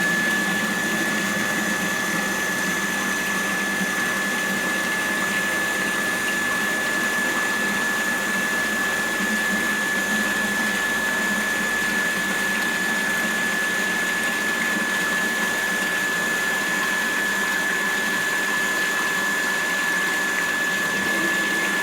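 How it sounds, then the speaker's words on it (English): Multistage centrifugal pump test rig running steadily, a constant whirring hum with a fixed high whine, unchanging and alone for the whole stretch. "Centrifugal pump"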